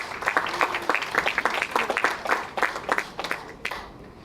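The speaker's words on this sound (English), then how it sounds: "Let's give them a very warm round of applause." Conference audience applauding at a sports law event, a dense run of many hands clapping that stays steady and fairly loud before thinning out toward the end.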